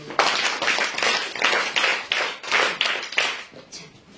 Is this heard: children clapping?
yes